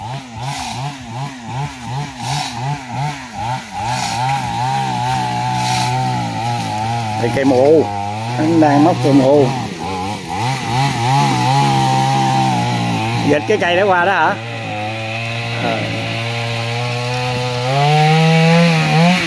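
A chainsaw drones steadily at a distance as it cuts a tree, its pitch rising and falling as it works, with people talking loudly over it throughout.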